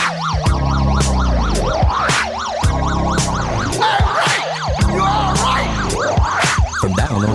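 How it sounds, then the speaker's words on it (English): A wailing police siren effect sweeps up and down repeatedly inside an early-1980s punk rock song, loud and cycling over driving guitars and drums. "From down on the corner, the siren sound, and there are police all around"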